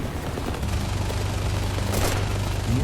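Aircraft machine guns fire in a video game as a dense, continuous rattle over a loud engine drone, one brief harsher burst standing out midway.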